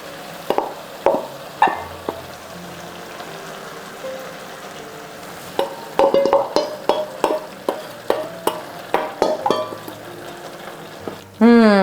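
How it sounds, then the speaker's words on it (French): Prawns, tomato sauce and olives tipped into a hot pan for a fish dish, with scattered clacks of a spoon against the pan, splashing plops and a steady low sizzle, ending in a louder burst; a voice speaks over it. "On va verser maintenant tout le reste. Les gambas, la sauce tomate et les olives."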